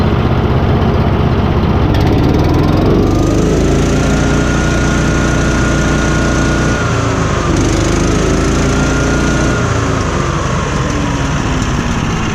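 A Little Wonder leaf blower engine roars loud and close at full throttle, holding a steady high-pitched drone with slight pitch dips throughout.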